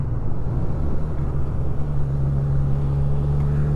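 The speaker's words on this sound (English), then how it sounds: "Nice little grumble there from that stock exhaust." A Honda CB1000R motorcycle with its stock exhaust gives a steady, close, low grumbling rumble while idling or cruising, continuous and fairly loud with no talking.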